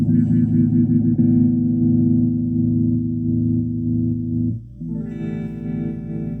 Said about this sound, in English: And then that leads into a tremolo sound.